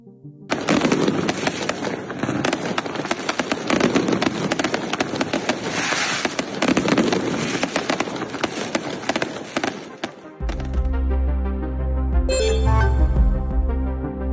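Fireworks crackle and pop in rapid, dense bursts during a nighttime celebration in El Salvador, then give way to music over the last few seconds.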